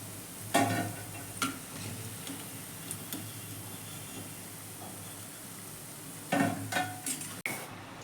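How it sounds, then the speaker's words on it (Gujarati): Vegetable Manchurian balls fry in oil with a soft, steady sizzle, broken by a few sharp clinks and taps of a utensil against the pan. "બધા બોલ્સ તળાઈને સરસ રેડી થઈ ગયા છે।"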